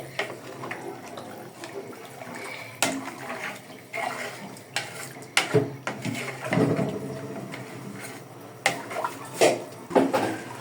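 Rice for pulao with hot water is stirred in a pot, bubbling and sloshing broken by scrapes and metallic knocks as a lid is handled, close and fairly quiet.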